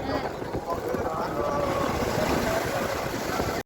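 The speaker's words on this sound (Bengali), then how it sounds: "এই যে ঢেউ আসছে যাচ্ছে" Sea waves washing in and out at Digha beach, a continuous broadband roar of surf and wind, steady and fairly near, with faint voices underneath.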